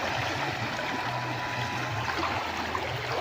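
Floodwater rushes through the half-submerged village of Debnagar in Purba Bardhaman, a steady, close broadband roar of flowing water that continues without a break.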